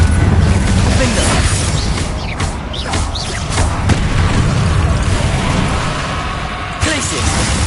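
Bombarda and Confringo spell explosions in the Hogwarts Legacy video game, a rapid series of booms and bursts over busy combat effects and mechanical clatter, continuous and loud throughout.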